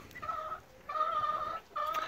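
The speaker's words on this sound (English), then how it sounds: "let the chickens do their thing" Chickens cluck in three short bursts separated by brief pauses, close by and moderately loud.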